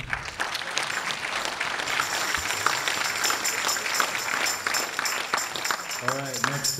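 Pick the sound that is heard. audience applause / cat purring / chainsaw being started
audience applause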